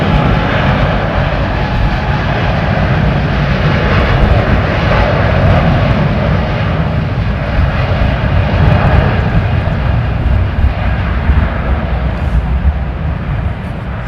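A Royal Jordanian Boeing 787 at London Heathrow powers up and rolls for takeoff, a loud, steady, broadband jet-engine roar that holds strong throughout with no talk.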